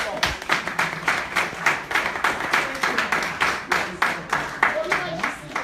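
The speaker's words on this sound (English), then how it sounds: "Please give them a round of applause." Audience clapping in a steady rhythm of distinct, fairly close claps, with voices talking and calling out underneath.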